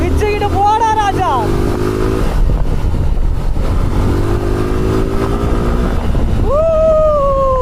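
A Suzuki Gixxer motorcycle on a test ride at a Suzuki pitstop event, its engine loud and close, pitch rising and falling as it revs and accelerates under steady wind rush.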